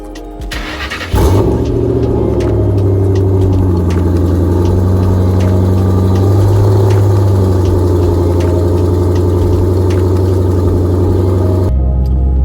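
A car engine cold-starts, cranking and catching, then settles into a loud, steady idle with a deep rumble that holds until it cuts off near the end.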